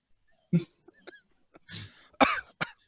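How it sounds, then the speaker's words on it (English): A few short, nervous coughs and throat-clearing sounds, close by, separated by brief pauses. "He like coughs nervously."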